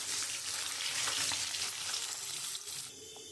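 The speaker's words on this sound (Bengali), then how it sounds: "আমি এবারে একটু কড়া করে ভেজে নেব।" Pieces of bhola fish rubbed with salt and turmeric frying hard in mustard oil; a dense, close sizzle with crackles continues steadily, then eases near the end.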